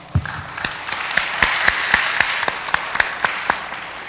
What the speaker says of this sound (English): Please give big a round of applause.